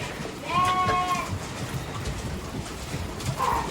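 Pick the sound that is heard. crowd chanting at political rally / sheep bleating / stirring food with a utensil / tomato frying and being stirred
sheep bleating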